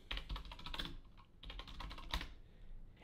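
Rapid typing on a computer keyboard while entering a git command, dense bursts of close key clicks with a brief pause midway, no voices.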